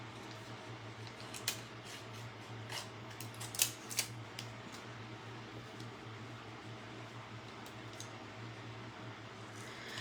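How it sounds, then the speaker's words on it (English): Scissors snip through a sheet of vellum in a crafting session, a few faint, crisp cuts clustered in the first half over a steady low hum of room noise. "so I have this piece of vellum. That might be fun to use, so let's cut that."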